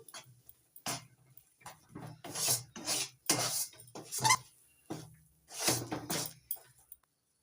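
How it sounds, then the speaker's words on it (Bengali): Ajwain seeds worked into amla and clove powder by hand in a bowl, giving soft intermittent clinks and rustles in uneven bursts, close and fairly quiet, with no talking. "হাফ চামচ জোয়ান ভালো করে মিশিয়ে নিচ্ছি সব কিছুর সঙ্গে"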